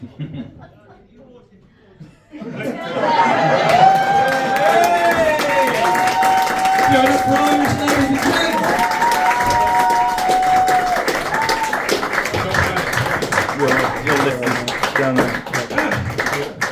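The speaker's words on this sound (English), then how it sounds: "So give these guys another big round of applause for it." Audience at a live music gig bursting into loud, sustained applause and cheering after a brief quiet moment, with dense clapping, whoops and a high whistle riding over the roar.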